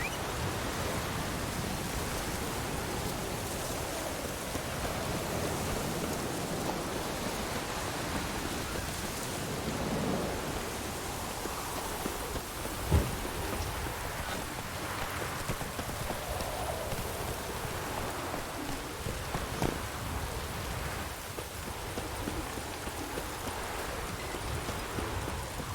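Steady rain in The Witcher 3: Wild Hunt hisses loudly and continuously throughout, with a couple of brief thuds breaking through the wash of noise.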